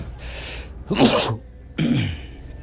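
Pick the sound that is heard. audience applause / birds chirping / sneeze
sneeze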